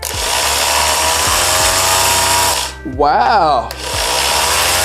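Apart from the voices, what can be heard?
electric sander running on Powdeom power station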